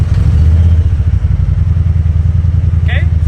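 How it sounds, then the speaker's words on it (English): A Honda Talon or Pioneer side-by-side engine runs with a loud, low, steady rumble right up close, holding an even idle throughout with a faint clatter near the end. "so then we'll start the engine."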